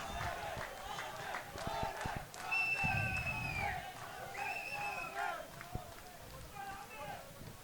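Army SC supporters cheer and roar at a rugby league match against CR & FC, a distant, swelling crowd noise under a commentator's voice.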